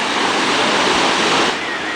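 A small stream flows under a bridge, a loud, steady rushing of water close to the listener that stays even throughout, with no voices.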